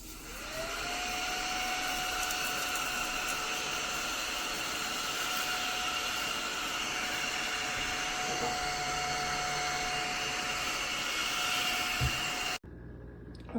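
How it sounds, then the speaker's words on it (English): An ODISTAR mini desktop vacuum cleaner hums nearby with a steady, even whine and airy rush for several seconds before it cuts off abruptly near the end. "It's literally just a counter vacuum."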